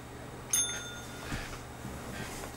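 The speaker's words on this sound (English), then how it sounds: "Ring the bell. Ring it. Ring the bell. Hit it. Harder." A bright bell ding rings once in the Atari 2600 game Wall Jump Ninja, a short, clear electronic chime over faint background hum.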